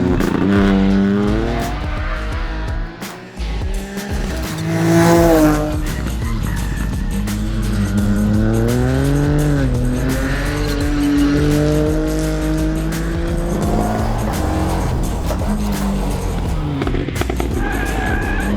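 Loud Ford Fiesta Rally4 rally car engine revving and climbing through gears, tires squealing between shifts, with occasional pops; continuous and close, no talking.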